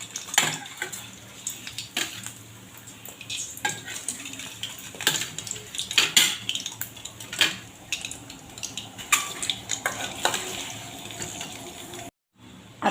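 Eggs fry in a pan for egg masala, a gentle sizzle under repeated sharp clinks and scrapes of a utensil against the pan, close by, ending with a brief dropout near the end.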